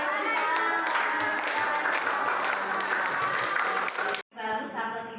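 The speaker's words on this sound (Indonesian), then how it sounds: "Kalau tepuk tangannya banyak berarti bagus ya" Loud, sustained applause from a classroom audience after a group presentation on environmental pollution, dense clapping with some voices mixed in, briefly dropping out before resuming.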